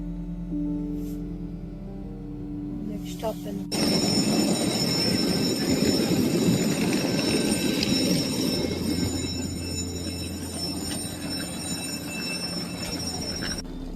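A Stockholm metro train in a snowy setting rumbles in abruptly after a few seconds of quieter hum, then roars steadily with a metallic whine and wheel noise, loud and close, for the rest of the stretch.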